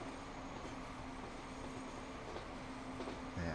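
Trains in the Transport Fever game rumble steadily through a tunnel, a continuous, muffled rolling drone with faint rail clatter and no voices.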